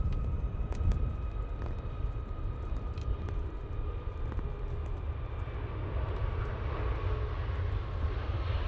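An airplane arriving at Manchester Airport, a broad distant engine roar that holds steady with a rising whine toward the end, heard alone without talk.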